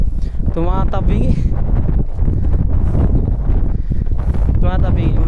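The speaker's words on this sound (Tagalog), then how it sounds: "Masyadong malakas yung hangin." Strong wind buffets a small fishing boat, roaring in gusts against the microphone while people talk over it throughout.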